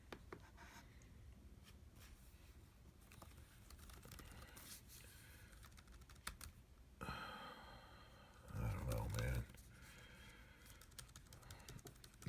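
Keys on an Apple MacBook Pro A1398 keyboard are pressed during a repair, giving faint scattered clicks and taps over a quiet hiss, with a brief louder rustle and thud partway through.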